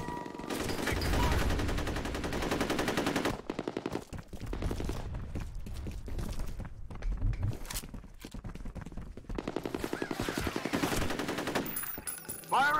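Rapid bursts of automatic gunfire from the video game F.E.A.R. Combat, loud and dense, come in long rattling volleys with brief pauses between them, plus a few single shots and footstep-like clatter.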